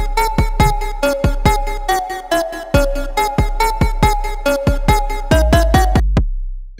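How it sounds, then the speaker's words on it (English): A trap synth lead built in a Massive synthesizer plays a bright, plucky melody of quick repeated notes over a steady booming sub bass, loud and alone, ending with a short decay. "this trap synth sounds like this"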